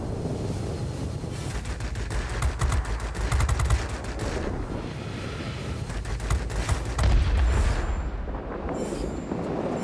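Aircraft guns fire in short rapid bursts during a World of Warplanes dogfight, the crackling volleys rising over a constant rushing roar of engine and wind, with a louder burst near the middle and end.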